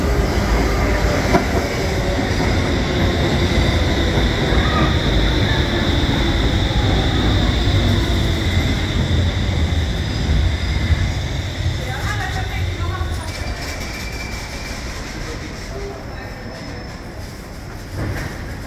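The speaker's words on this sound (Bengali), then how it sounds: "এই যে একটা ট্রেন চলে আসছে।" A train arrives at Stockholm railway station in Sweden with a loud, steady rumble and rattle of rolling wagons. The noise fades slightly near the end as the train slows, and a voice is heard over it.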